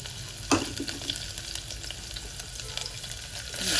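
Onions frying in tempered oil for Bardoli-style khichdi give a steady close sizzle with light stirring scrapes, a sharp crackle burst near the start, and the hiss swelling louder at the end.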